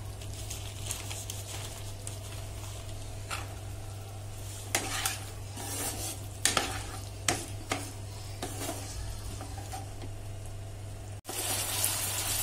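Capsicum and peas sizzle in a pan as a spoon stirs them, with soft steady frying, scattered scraping clicks and a brief dropout near the end.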